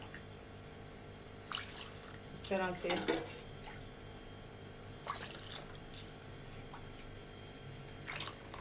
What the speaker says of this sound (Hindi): ये पानी डालेंगे हम इनके अंदर